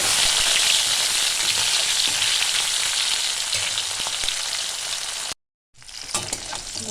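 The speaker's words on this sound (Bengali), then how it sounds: "আরও দুটো মাছ আছে, আমি ভেজে নিচ্ছি এগুলো।" Two more bata fish fry in mustard oil with a loud, close, even sizzle and crackle that cuts out abruptly near the end, then resumes more faintly.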